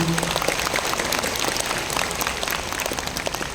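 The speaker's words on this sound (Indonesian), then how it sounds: "Sekali lagi kita berikan aplaus, tepuk tangan untuk kita semua yang hadir pagi hari ini." Steady applause from a crowd at a religious talk in Hong Kong, dense and continuous clapping throughout with no voices standing out.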